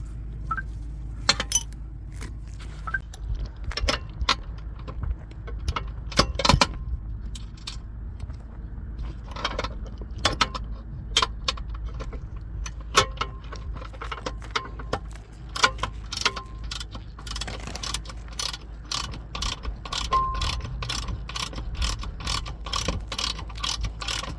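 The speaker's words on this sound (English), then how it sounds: "Just the washers and the nuts, and we good to go." Close mechanical clicks and metallic clinks, like a ratchet turning and hardware being handled, as washers and nuts are fitted onto the seat mounting bolts of a Volvo VNL780 truck cab, with scattered sharp taps and no talk.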